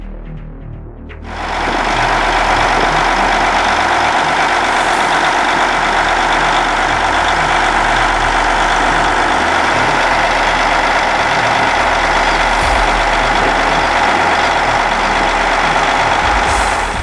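A Caterpillar 855 tractor with a power shift transmission idles close by, its engine starting up loudly and then holding a steady, heavy drone with no talking.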